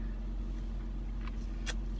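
Inside a moving car, a low, steady engine and road rumble fills the cabin at moderate level. A couple of faint, brief higher rustles occur, and no one speaks.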